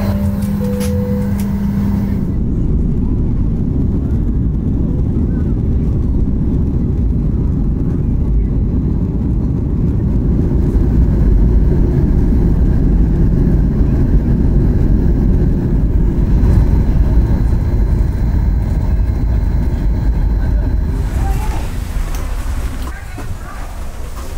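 The cabin of an Alaska Airlines jet in flight from Seattle to Ketchikan fills with a steady, loud, broadband engine roar that holds for the whole stretch, with a brief tone or announcement near the start.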